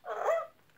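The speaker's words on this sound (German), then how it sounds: "er hört noch nicht so gut, weil er halt noch so eine kleine Welpe ist" A small puppy gives a short, soft whimpering yelp, a single brief close cry with a faint click at the end.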